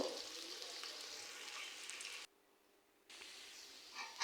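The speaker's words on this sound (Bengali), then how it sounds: "এই যে এখন আমি ভালোভাবে পেঁয়াজ ভেজে নিব" Onions sizzle in hot oil in a pan, a soft steady frying hiss that cuts out briefly before resuming.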